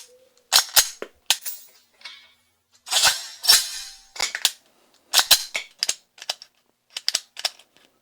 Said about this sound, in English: Pulling the slide rearward and locking it is referred to as opening the action or leaving the action open.